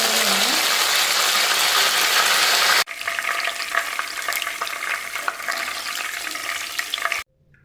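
Cashew nuts fry in hot oil for beef biryani, giving a loud, steady crackling sizzle that stops abruptly, then a quieter spitting fry with scattered pops, up close and without speech.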